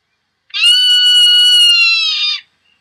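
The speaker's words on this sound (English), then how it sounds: "you'll hear the call of the zone-tailed hawk" A single sustained, piercing scream of a zone-tailed hawk played through the BirdsEye app, loud and close, about two seconds long and slightly falling in pitch, with silence around it.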